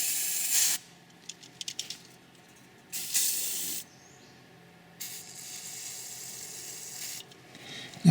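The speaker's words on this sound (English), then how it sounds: "you can use a bit of WD-40" WD-40 penetrating lubricant sprayed onto car brake parts, three separate sharp aerosol hisses of about a second or two each, close and loud, with quiet mechanical clicks between them.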